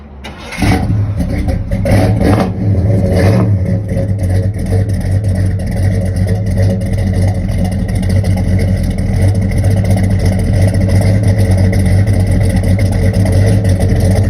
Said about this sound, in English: Let me crank the vehicle up and let you hear it run.